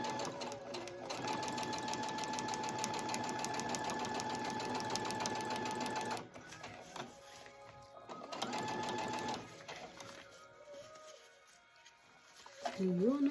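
A sewing machine stitches elastic onto a cloth diaper in fast, even whirring runs, stopping and restarting a few times, with soft handling noises and a voice talking between bursts.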